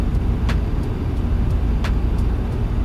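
Dense road traffic in American Truck Simulator, heard as a steady, loud rumble of car and truck engines with a few brief whooshes of vehicles passing close by.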